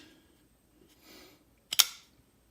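A Civivi Naja folding knife with stainless steel bearings gives a sharp, close detent click as the blade flicks, preceded by faint softer handling noise in a quiet room.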